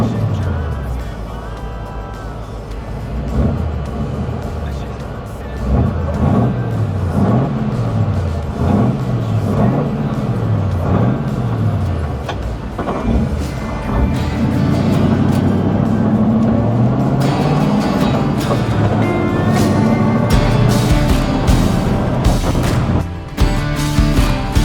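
A 289 V8 engine in a restored 1941 Ford F-100 pickup cranks by push button, fires up and settles into a rumbling idle, revving and surging a few times, loud and close.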